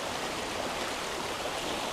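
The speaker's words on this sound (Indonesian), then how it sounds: "Dan kita bisa melihat air sungai yang mengalir ini" Murky, rain-swollen river flowing past the bank, a steady broadband rush of water that stays even and fairly close throughout, with no voices.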